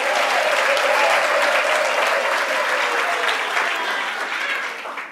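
Loud, sustained applause fills a large hall at a university spring graduation ceremony, with a dense crowd clapping in a continuous roar that slowly tapers off toward the end.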